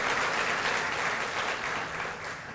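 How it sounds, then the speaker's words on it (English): An audience at a Junior Achievement breakfast event applauds a sponsor with steady, dense clapping that fades slightly toward the end. "So could we give them a round of applause?"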